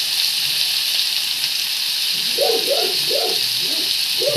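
Chutney fries in a pan over a lowered gas flame, giving a constant loud hiss and crackle, with a few soft bubbling pops rising toward the end.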